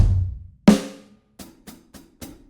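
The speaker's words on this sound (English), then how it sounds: "I've created a Superior Drummer 3 kind of little preset thing that sounds a bit like this" Vintage lo-fi drum kit from a Superior Drummer 3 preset: a decaying low hit, then a sharp snare crack, followed by four quick, lighter evenly spaced hits, fairly quiet and dry.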